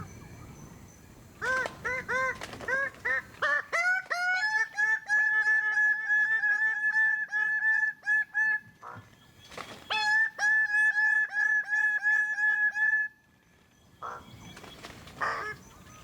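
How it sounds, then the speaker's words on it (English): Birds call repeatedly at a remote wildlife photography site, loud harmonic honking and crowing-like cries in rapid bursts, several voices overlapping, with brief pauses between volleys and no talk. "And the birds came."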